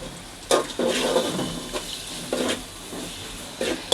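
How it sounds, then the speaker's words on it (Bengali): Onion frying in hot oil in a pan crackles with a steady close sizzle, broken by several bursts of louder hissing and scraping as it is stirred. "এই যে পেঁয়াজ দিয়ে দিলাম,"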